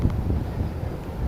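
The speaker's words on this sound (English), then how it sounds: "It's unbelievably windy." Strong wind buffets the microphone outdoors on a freezing New York City street, a steady low rumble of gusts filling the clip with no voices.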